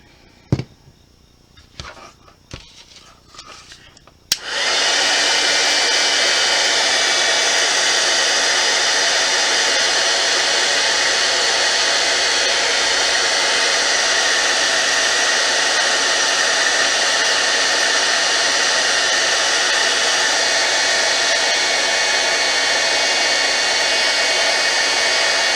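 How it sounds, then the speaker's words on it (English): After a few light clicks and knocks, a heat embossing tool switches on and blows hot air in a loud, steady whooshing hiss that runs on unbroken for about twenty seconds. "Okay, so let's heat emboss this one."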